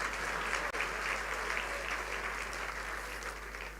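Conference audience at a Rotary district gathering in Entebbe, Uganda, clapping loudly and steadily, a dense wash of applause filling the room for the whole stretch without pause.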